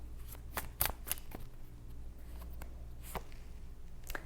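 Tarot cards being shuffled and drawn from a deck, with a run of crisp riffling flutters and sharp card snaps spread across the stretch, close by and fairly quiet over a low steady hum.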